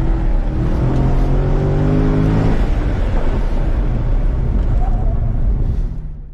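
A Chevrolet Corvette C6 engine revs up loud and close, its rising tone breaking off midway into a rough, broadband roar that carries on before tapering at the end.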